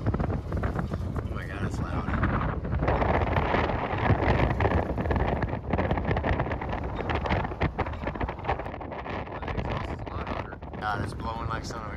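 Strong wind gusting at a concrete truck parking area, buffeting the microphone in loud uneven rumbling bursts, with a voice talking over it at times.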